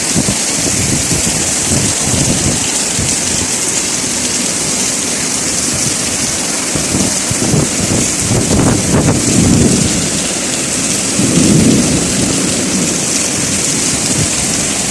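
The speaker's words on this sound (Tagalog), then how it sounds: "Pero ang lakas na ng ulan." Steady heavy rain in Bahrain drums on surfaces nearby amid flooding while deep thunder rumbles swell and fade, a louder roll building near the end.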